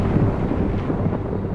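Deep, continuous rumble of a thunderstorm with a heavy, steady roar and no distinct breaks, filling the whole moment without any voices.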